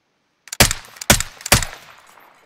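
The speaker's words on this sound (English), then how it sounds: "wait. Fucking shots." Three sharp, loud gunshots ring out in quick succession in the video game Warzone during a Season 6 duos match. Each crack is followed by a short echoing tail, after a moment of silence.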